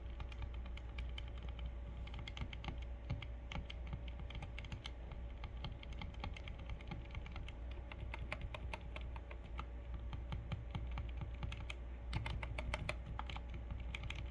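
Typing on a Keychron V6 keyboard fitted with Gamakay Mercury silent switches produces a steady, quiet patter of soft, muted keystrokes in continuous rapid rhythm, close and faint, with no clicks.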